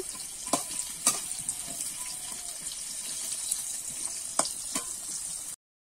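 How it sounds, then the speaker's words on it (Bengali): Potatoes fry in hot oil, a steady close sizzle broken by occasional stirring clinks and scrapes, with no speech, ending in sudden silence. "এবারে ওই তেলেতেই কিন্তু আলুগুলো ভেজে নেব"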